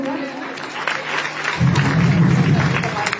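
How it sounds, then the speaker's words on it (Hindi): A school Republic Day audience claps on request during a poetry recitation, a fairly close wash of applause and crowd noise that swells midway and continues to the end. "इच्छा हो तो थोड़ी बहुत ताली बजा दीजिएगा"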